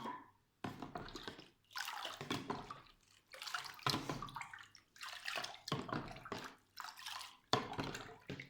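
Small amount of water poured onto a houseplant: several short splashing bursts of running water broken by brief pauses, close and fairly quiet, with no talking.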